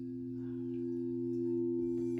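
Sound bowls ringing with a soft, sustained hum, several steady tones blending into a gentle shimmer that holds throughout at low volume, with faint light clinks near the end.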